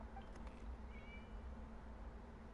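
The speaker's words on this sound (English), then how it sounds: "It was just a cat." A cat meows inside the Genshin Impact video game, a brief, faint call set against steady game ambience and background music.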